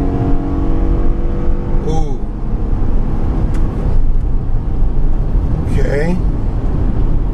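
A 2014 Honda Pilot AWD launches from a standstill, its engine droning and rising under acceleration with road roar, while a person reacts briefly over it.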